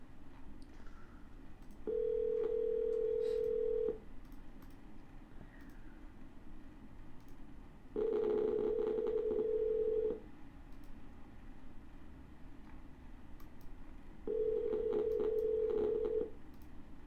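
A telephone call in progress: three long, evenly spaced ring tones about two seconds each, sounding from a handset on a quiet line between gaps of soft hiss.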